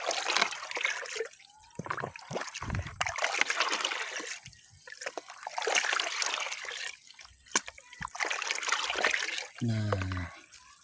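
Homemade compost mixture being stirred in water, with wet sloshing, trickling and splashing in uneven bursts, close by and moderately quiet, separated by brief pauses.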